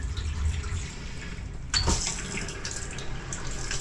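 Water running steadily from a food trailer tap into a sink, a continuous hiss with a brief louder surge partway through, close by and alone.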